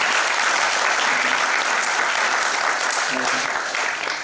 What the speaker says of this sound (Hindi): एक जोरदार ताली उनके लिए।